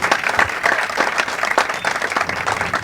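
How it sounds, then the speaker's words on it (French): Applause for a player at a QubicaAMF bowling tournament, a steady wash of many hands clapping at moderate loudness, with no talk over it for about three seconds. "Quelques applaudissements"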